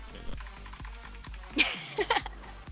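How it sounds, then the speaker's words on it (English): Keystrokes on a clacky mechanical computer keyboard, a scattered run of sharp clicks with small bursts of quicker taps, fairly close and alone. "Can y'all hear me typing?"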